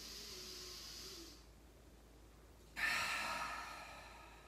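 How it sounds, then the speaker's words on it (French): A long, breathy exhale through the mouth during a guided breathing exercise, a steady airy hiss that fades, followed after a brief near-silent gap by a louder, brighter rush of breath close to the microphone. "Expire par la bouche."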